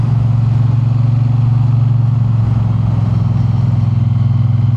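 A Triumph Bonneville motorcycle engine runs steadily at idle, a loud, close, continuous low throb with no change in pace and no talking over it.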